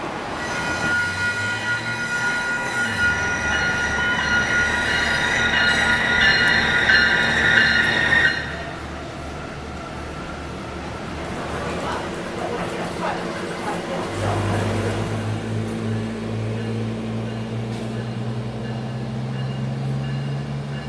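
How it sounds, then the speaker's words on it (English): A SMART commuter train in the San Francisco Bay Area rumbles at a station, then rides along the track. Its wheels squeal and screech, and the steady motor hum and rolling noise rise and shift as it moves. "now I'm at the SMART station waiting for a SMART train"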